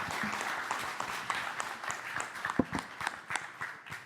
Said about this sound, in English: let's do another round of applause